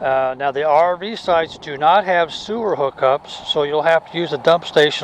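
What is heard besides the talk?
No everyday noises stand out.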